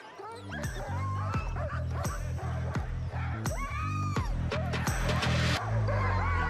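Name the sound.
sled dogs barking at Iditarod ceremonial start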